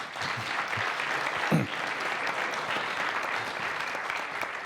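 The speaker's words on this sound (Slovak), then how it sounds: "to stojí za potlesk od všetkých" An audience at a panel discussion on an urban research project claps together, a continuous wash of applause at moderate level that stays even from start to finish.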